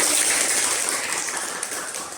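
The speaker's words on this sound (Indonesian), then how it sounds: "Ya, tepuk tangan" A group of people clapping their hands during an ice-breaking activity, a dense, continuous patter of many claps that stays loud and nearby across the whole moment.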